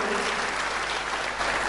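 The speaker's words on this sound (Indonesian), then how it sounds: "tepuk tangan lebih meriah lagi buat Tuhan kita" A church congregation applauds together in a dense, steady wash of clapping that holds evenly throughout, close and moderately loud with no other sound over it.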